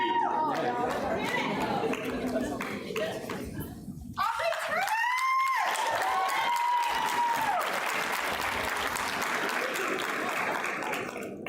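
A cheering section at a graduation completion ceremony applauds and cheers in a dense, sustained wash of clapping and crowd noise, with chatter throughout and a brief dip partway through.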